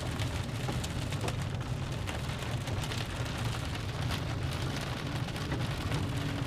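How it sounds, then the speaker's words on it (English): Heavy rain pours steadily during a storm in Minnesota or Iowa, a dense unbroken hiss of drops drumming on surfaces, with a low rumble underneath and no voices. "Can't see anything in the rain."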